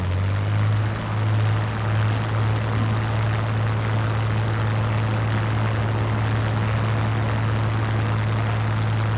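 A Spitfire Mk.IX's engine drones at high power during takeoff in a flight simulator game, a loud, steady propeller roar with a constant low hum, unbroken throughout.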